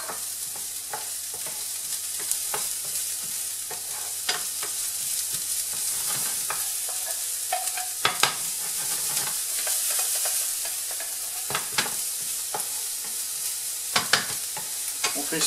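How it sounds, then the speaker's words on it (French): Shallots fry in olive oil in a hot pan with a steady, close sizzle and occasional clicks and scrapes of stirring, with no talking. "On lance les échalotes."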